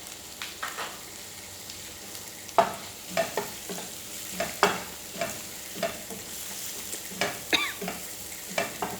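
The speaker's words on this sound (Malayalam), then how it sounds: "കുറച്ച് കറിവേപ്പിൻ്റെ ഇല ചേർത്ത് കൊടുക്കുക." Curry leaves crackle and sizzle in hot oil in a pan while making a prawn roast in coconut milk, with a utensil scraping and stirring in irregular bursts, close and clear with no talk.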